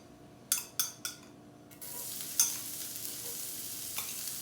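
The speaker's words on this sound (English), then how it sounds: "Add a tablespoon worth of chopped shallots. And let them cook." Chopped shallots hit hot clarified butter, opening with a few sharp clatters before a steady close sizzle that carries on with light stirring, no voices.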